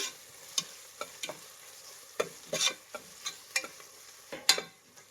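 Ginger garlic paste fries in a pan for Ambur chicken biryani, with a steady soft sizzle broken by a series of sharp, irregular scrapes and taps as the spoon stirs it.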